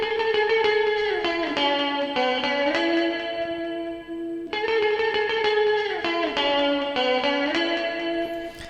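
An ambient electric guitar melody plays in a higher octave, then repeats in a lower one, each phrase of sustained, gliding notes washed in chorus, distortion and reverb, loud and alone with a short gap between the two passes.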